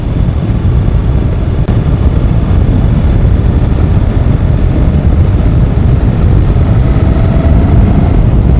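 Steady, loud engine and wind roar from a motorbike picked up on a helmet mic while riding on a chilly morning, a continuous dense rumble with no talk over it.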